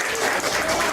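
A church congregation claps in steady, dense applause welcoming a guest apostle to the stage, the clapping loud, close and continuous throughout.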